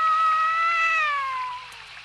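A cat in the animated series Tom Sawyer gives one long, loud, drawn-out meow that slowly falls in pitch and fades, alone and close.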